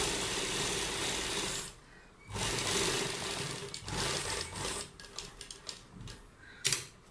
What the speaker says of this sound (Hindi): तो चलिए यहाँ से हम एक सिलाई शुरू करते हैं।